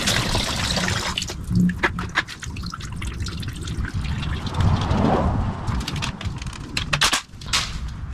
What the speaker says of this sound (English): Now that all the fluids are drained from the block